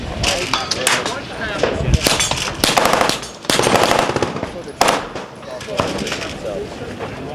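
Flux Raider firearm fired at an outdoor range during a trade show range day, loud rapid bursts of gunshots with echo and short gaps, some voices in between.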